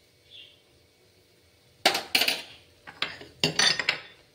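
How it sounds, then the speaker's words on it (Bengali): Fried rice and potatoes being stirred in a cooking pan, heard as a few sharp, close metallic scrapes and clinks of a utensil against the pan in short bursts after a quiet start. "এবার একটু ভালোভাবে নাড়াচাড়া করে নেব।"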